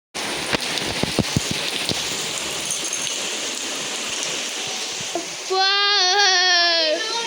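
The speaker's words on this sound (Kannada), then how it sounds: "ದೊಡ್ಡ ಮಳೆ ಐತಿ ಆಗ್ತೈತಿ ಅಲ್ರಿ" Heavy rain pours steadily outside a house at night, a dense wash of noise with scattered sharp drip taps, then a voice takes over near the end.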